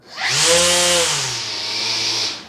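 A Bosch Profactor 18V cordless string trimmer/edger with a variable speed trigger spins up, holds a loud steady motor whine for about two seconds, then winds down, with no talking.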